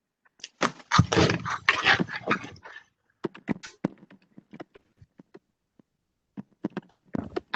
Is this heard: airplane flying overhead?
no